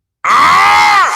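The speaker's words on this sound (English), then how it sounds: "Grunt." Loud, close vocal grunt sound effect, a single sustained strained groan lasting about a second and ending with a falling pitch, heard alone.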